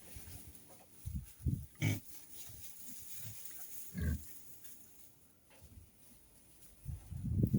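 Vietnamese pot-bellied piglets grunt in short, soft bursts scattered across a quiet background, some louder and closer than others.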